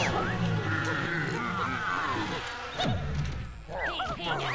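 Bees buzzing during a boss fight in the video game Yooka-Laylee, a continuous insect drone under game sound effects and swooping tones, with someone talking over it.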